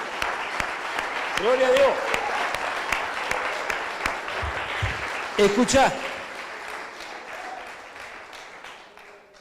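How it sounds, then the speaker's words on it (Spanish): A church congregation clapping for the Lord, scattered claps spread through the passage beneath a voice speaking loudly in Spanish. "dale un fuerte aplauso al Señor"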